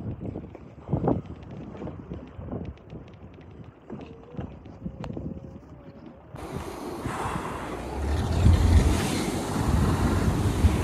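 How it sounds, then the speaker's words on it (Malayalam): Strong wind blows at sea beside a small boat, a rough rushing roar over the sound of waves that grows louder and denser in the second half. "ഭയങ്കര കാറ്റാണ്"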